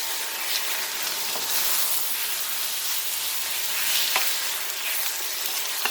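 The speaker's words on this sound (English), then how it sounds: "This beef is browning really nicely." Beef stir-frying in a very hot pan for a Chinese dish, with a steady broadband sizzle throughout and a few faint clinks of the utensil against the pan, no talk.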